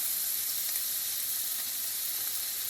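Butter sizzles steadily in a hot pan while aromatics for chicken piccata are started, a constant bright crackling hiss with no voices, close and even throughout.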